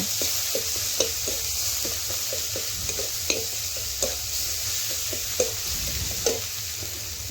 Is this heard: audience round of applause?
no